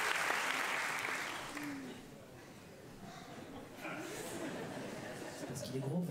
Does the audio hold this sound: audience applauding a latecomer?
yes